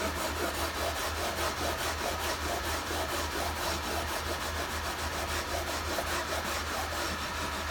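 Guitar frets on an Epiphone Casino being sanded with 320-grit sandpaper, a close, rapid back-and-forth rasping scrub that keeps a steady rhythm throughout with no talk.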